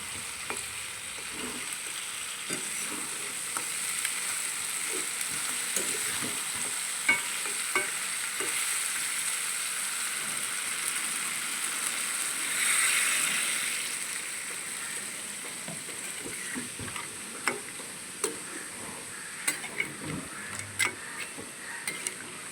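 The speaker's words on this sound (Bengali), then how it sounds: "কাঁকড়াগুলো দিয়ে আরেকটু ভালো করে কষিয়ে নেব।" Crab being stir-fried in a pan for a Bengali kosha curry, with a steady sizzle throughout and scattered scraping ticks of a spatula, rising briefly in the middle; no voices.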